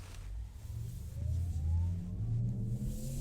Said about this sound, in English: there is this electric sound. I want to just turn it on for you.